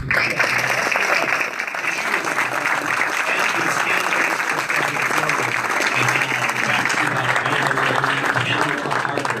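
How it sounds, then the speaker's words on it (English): Sustained audience applause fills a governor candidate forum in Soldotna, a steady dense patter of many hands clapping at close range from start to finish, with a few voices faintly mixed in. "This is the point where we applaud all of the pledges."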